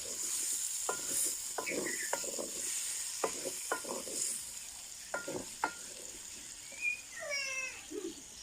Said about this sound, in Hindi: इनको साथ साथ भूनते जाना है आपने 4 से 5 मिनट तक।